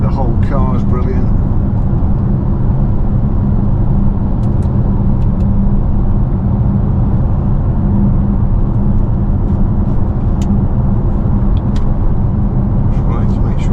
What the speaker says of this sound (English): and the tyre roar, it's certainly not unpleasant